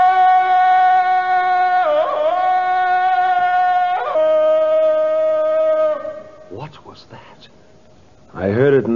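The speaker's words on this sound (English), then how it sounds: "It's the cry of the victorious aboriginal ape." A long sustained yell, Tarzan's cry of the victorious ape in a 1951 radio drama, holds a strong wavering tone with yodel-like breaks around two and four seconds, then fades; a voice speaks briefly at the end.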